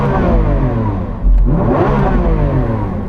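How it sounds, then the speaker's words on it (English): A Lamborghini Aventador SVJ engine revs loudly up close, a deep steady idle that surges into a sharp rising bark midway and then holds a rough, throbbing rumble. "so I'm going to rev up this SVJ"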